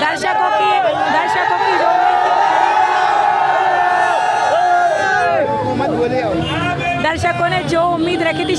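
A loud, dense crowd of Shah Rukh Khan fans gathers at a Pathaan screening outside a cineplex, with overlapping shouts, chanting and cheering voices close by throughout.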